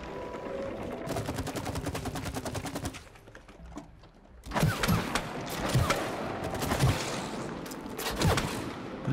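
Gunfire in the video game It Takes Two, heard first as a fast mechanical rattle of rapid shots, then after a brief lull as several heavier, booming blasts with a busy game soundtrack underneath.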